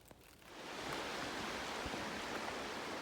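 The Mulberry River flowing on the Ozark Highlands Trail, a soft, steady broadband rush of water that swells in over the first second and then holds constant and fairly faint.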